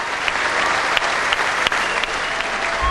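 An arena concert audience applauds in a dense, continuous clatter of clapping, steady and fairly loud throughout with no talk.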